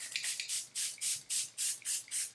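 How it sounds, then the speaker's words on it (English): Hourglass setting spray mists onto a face in eight short, crisp hissing bursts at an even pace, loud and close with quiet gaps between pumps. "I'm going to use this setting spray from Hourglass."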